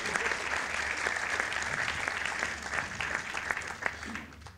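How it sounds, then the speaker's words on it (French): An audience at a French academic lecture event claps steadily for a speaker. The applause is mid-level and continuous, made of many individual claps, and it thins slightly toward the end. "Oui, il faut applaudir, Ivar."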